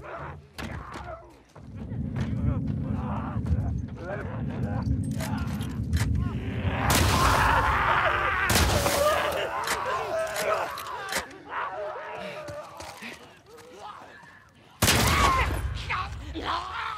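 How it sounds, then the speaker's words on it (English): Incendiary-round shotgun blasts in The Last of Us Part II gameplay, several loud bursts spread across the clip over a rumbling game soundscape. "The incendiary rounds have a huge, large spread that will light enemies on fire"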